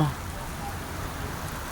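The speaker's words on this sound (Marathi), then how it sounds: "जोरात पाऊस जोरात वारा जोरात वारा गार गार वारा" Heavy first rain of the season with strong wind, a dense steady hiss and rush of rainfall on surfaces, continuous and fairly loud for the short stretch.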